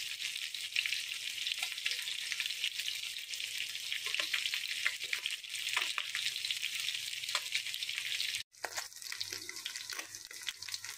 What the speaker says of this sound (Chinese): 炸得金黄金黄的。